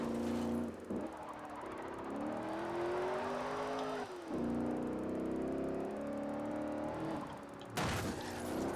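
A car engine in Forza Horizon 1 hums and revs with rising and falling pitch, smooth sustained tones broken by short gear-shift dips, moderately loud and alone.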